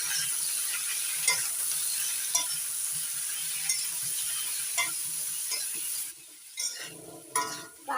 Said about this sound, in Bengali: এবার নাড়াচাড়া করে লালচে করে ভেজে নেব।